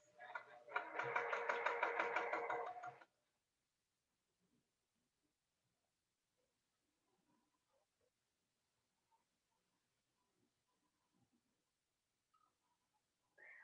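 A sewing machine stitches quilting fabric pieces in one loud, steady, rapid run of about three seconds. Near silence follows, with only faint small handling noises.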